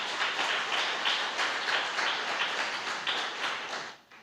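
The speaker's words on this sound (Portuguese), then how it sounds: "Se você quiser, você pode aplaudir ao Senhor nessa noite." Church congregation applauding during an evening service, a dense, steady wash of many hands clapping that holds for about four seconds and then trails off quickly.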